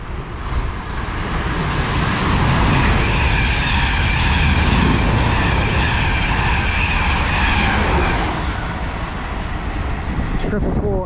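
A Portsmouth Harbour to London Waterloo passenger service, routed via Eastleigh, rushes through a station in Hampshire as a steady loud roar of wheels and rail noise lasting the whole stretch, rising slightly in the middle.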